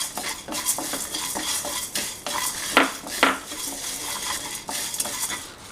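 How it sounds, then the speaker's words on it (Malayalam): Spices, coriander seeds and fresh coriander dry-roasting in a pan for chicken masala fry, with a metal spoon scraping and clinking against the pan in repeated close strokes and no talking. "ഇതെല്ലാം കൂടെ നമുക്കൊരു 3 മിനിറ്റ് ഇതുപോലെ ചട്ടിയിലിട്ടൊന്ന് ചൂടാക്കിയെടുക്കാം."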